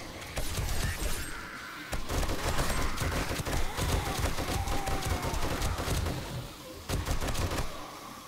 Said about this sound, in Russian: Ну, пулемет зачетный.